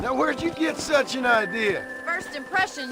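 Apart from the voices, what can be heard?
No everyday noises stand out.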